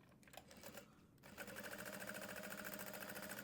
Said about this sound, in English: So I'm going to top stitch this along either side.